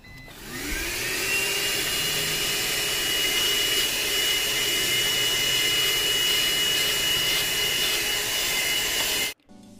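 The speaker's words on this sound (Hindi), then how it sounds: "I will start with vacuum, क्योंकि इसी से जो छोटे मोटे मिट्टी के कण हैं या और जो मिट्टी है गाड़ी के अंदर वो निकलेगी।" A vacuum cleaner runs steadily for nearly ten seconds while cleaning dust and soil particles from a car interior at home, a loud continuous whine and roar that cuts off abruptly at the end.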